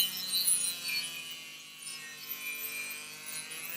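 A drone propeller edge is sanded gently against a sanding disc, giving a continuous soft, rough abrasive rubbing with slight surges, fairly quiet and heard alone.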